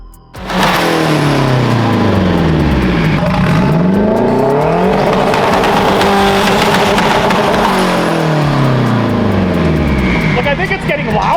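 A K20-swapped Honda CRX with a flame-throwing anti-lag turbo roars loudly and continuously, engine pitch sweeping up and down through hard revs while tires squeal throughout, with faint voices underneath.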